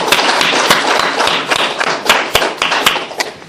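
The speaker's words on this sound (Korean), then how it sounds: "우리 하나님께 영광의 박수 올리도록 하겠습니다." A church congregation gives a round of applause after a prayer, brisk, loud, close clapping with sharp individual claps standing out, tapering off toward the end.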